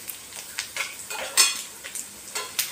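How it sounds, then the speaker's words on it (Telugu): Curry leaves frying in a pan for a homemade chutney, a quiet sizzle punctuated by rhythmic metallic spatula scrapes and taps, close and steady, with no voices. "2 రెమ్మల కలిజామాకు, మంచిగా వేయించుకోవాలి."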